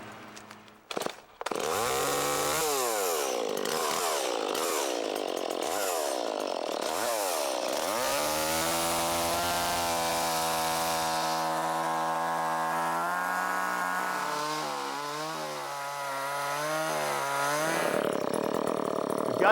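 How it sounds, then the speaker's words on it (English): Chainsaw cutting into the back side of a tree trunk during felling, a loud continuous engine whine with pitch rising and dipping as the chain bites into the wood, running alone and close for most of the stretch. "I'm going to come from the back side of the tree and cut toward the apex of that V"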